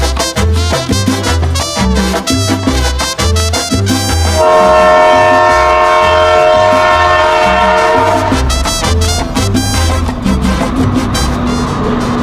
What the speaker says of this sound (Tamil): வெள்ளவத்தை கடற்கரையின் நீல அலைகளை பின்னால் தள்ளிவிட்டு மெதுவாக நகர்ந்து கொண்டிருக்கும் இந்த ரயில்